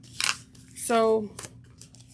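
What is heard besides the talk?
sharp scissors cutting fabric for a crossbody bag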